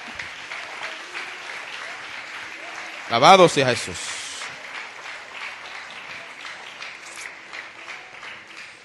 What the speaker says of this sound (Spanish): Dele un aplauso a Dios en esta mañana